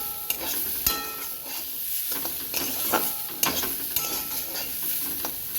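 Leafy greens fry gently in a pan over low gas, a soft steady sizzle broken by occasional light scrapes and clicks of a stirring utensil.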